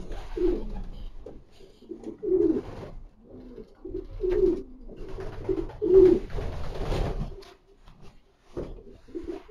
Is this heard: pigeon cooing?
yes